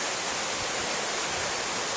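Steady monsoon rain pours down as a dense, even hiss with no breaks, close and fairly loud, with a faint low thump in the background and no voices.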